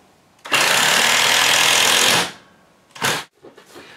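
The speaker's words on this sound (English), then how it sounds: "better to have a really fast drill gun instead of a slow torque battery operated drill gun" A fast drill drives screws through an insulation panel into a wood-framed wall, a loud high-speed whine held steady for nearly two seconds, then a shorter second burst and faint handling noise.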